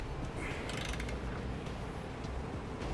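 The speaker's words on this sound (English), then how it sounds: "back to the torque wrench, look in your instructions, find your torque specs for these larger bolts and get them set." A torque wrench tightens the larger bolts of a B and W Companion underbed kit on a 2016 Chevrolet Silverado, giving a faint steady ratcheting and mechanical clicking under low background noise.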